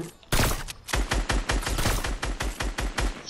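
Rapid gunfire in the shooter game Fortnite rattles in loud, dense bursts of repeated shots, a steady rhythmic volley filling the whole stretch with no pause.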